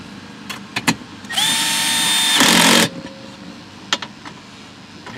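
A power drill whirs for about a second and a half as it drives the emergency brake adjuster on a 2005 Toyota Highlander AWD 3.3, loud and close, with small clicks and taps before and after.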